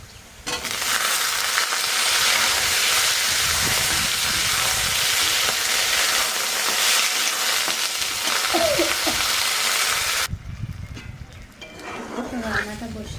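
Food frying in a pan in a home kitchen, a loud, steady sizzle and hiss running continuously for about ten seconds before cutting off, followed by quieter kitchen noise with a voice speaking briefly.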